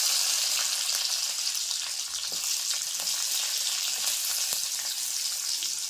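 Garlic dropped into hot oil with popped mustard seeds and dried red chillies, giving a loud, dense, continuous sizzle and crackle up close, with faint stirring taps underneath and no voices.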